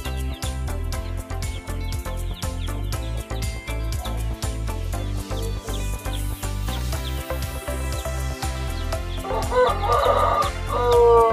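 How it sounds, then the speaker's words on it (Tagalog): Rooster crowing over steady chicken clucking in a backyard flock, a close, loud crow rising near the end amid dense overlapping fowl calls. "Yan po ang barako natin, oh."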